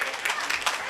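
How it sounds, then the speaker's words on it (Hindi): An audience claps for a quiz participant at a remembrance celebration: a short burst of dense, fairly loud applause from a crowd, with no other sound over it. "जोरदार तालियां जिनल के लिए"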